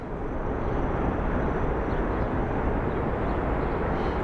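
A SkyWest Embraer airliner arriving at Phoenix Sky Harbor airport, a loud, broad, steady jet roar with no speech over it.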